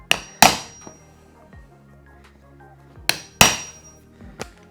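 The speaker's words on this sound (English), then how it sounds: "I'm going to use this same punch for this, just so it's going to start the screw off." A metal punch is struck with a hammer to start a screw hole in a shelf board: two pairs of sharp, ringing taps a few seconds apart, close and clear, each followed by a lighter knock.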